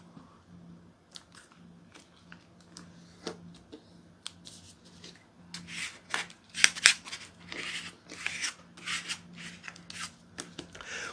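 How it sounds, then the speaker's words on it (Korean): Paper being folded into a Mjolnir paper airplane, soft crinkles and rubbing with sharper creasing rustles that grow busier in the middle, close by, with no speech. "점선에 맞춰서 이렇게 점에 맞춰서 딱 올려서 접어주세요"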